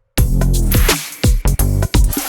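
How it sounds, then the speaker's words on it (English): Loud, thick K-pop R&B electronic music with bass layered over sub bass, heavy deep notes hitting in short bursts, punctuated by brief gaps and sharp rhythmic hits. "I'm layering my bass with my sub bass, and now it sounds like this."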